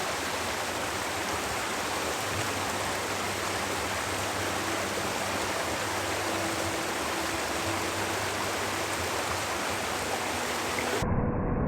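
Cold river water flows in a steady, unbroken rush close by, a dense even wash of stream noise that continues without pause before cutting off abruptly at the end.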